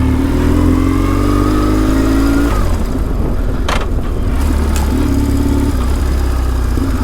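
A BMW R1150 GS motorcycle engine runs loud and close throughout during an off-road ride, its steady drone shifting pitch midway as revs drop and then climb again.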